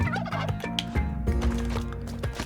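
Turkeys gobble in the video game Spelunky 2, sounding as a loud, rapid, warbling run of gobbles that repeats several times close up with no talk.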